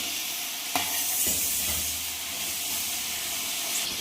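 Spices and tomatoes sizzle in a tadka for a village-style desi pulao cooked on a clay stove, giving a steady, close frying hiss with a brief stirring clatter near the start.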